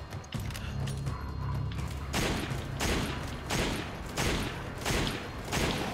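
Rapid gunfire in Resident Evil 5, a fast run of heavy shots booming repeatedly at close range, loud and without talk.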